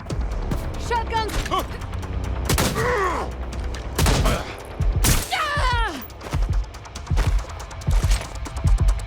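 Shotgun gunfire in Watch Dogs: Legion, several loud booming blasts spaced unevenly across a few seconds, mixed with whooshing game effects and sharp impacts up close.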